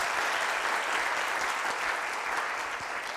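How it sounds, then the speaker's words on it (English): A TEDx audience gives a talk a huge round of applause: dense, continuous clapping, loud and even from start to finish. "a huge clap another time"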